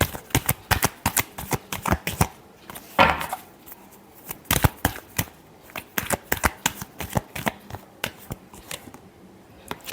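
Tarot cards being shuffled by hand in a rapid series of crisp riffling snaps and flutters, close and fairly loud, with no talking.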